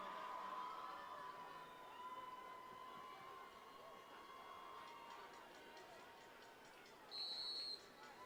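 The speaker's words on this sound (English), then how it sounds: "Now we get another whistle." A referee's whistle blows at a high school football game between Lakeview and Roseville, a long steady blast heard at a distance over crowd murmur, followed later by a shorter, sharper tweet.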